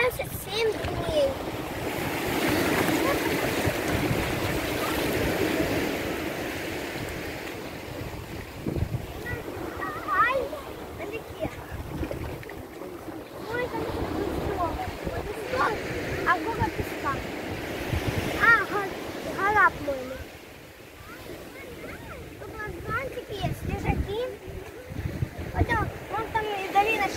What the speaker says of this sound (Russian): Вот он, Атлантический океан.